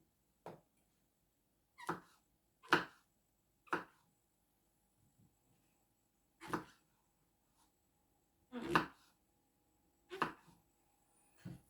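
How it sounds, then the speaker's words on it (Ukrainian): Button mushrooms are sliced into large chunks on a board for mushroom soup, giving about nine separate knife chops at uneven intervals, close and crisp against near silence. "Нарізаємо немаленькими кусочками, нарізаємо такими трошки більшими."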